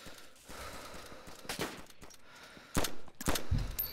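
Scattered gunshots in the survival game DayZ, a few sharp reports spread across the clip, some distant and some louder and closer near the end, over a low background with faint breathing.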